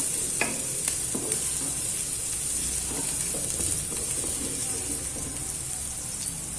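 Garlic and onion sizzle in a frying pan while a utensil stirs them, with scraping clinks against the pan over a steady, moderately loud crackle.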